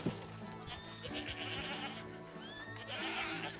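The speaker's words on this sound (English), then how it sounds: "I found a small farm that had goats" Goats bleating on a farm in the video game Red Dead Redemption 2, with several wavering bleats spread over a bed of low rumble and ambient game sound.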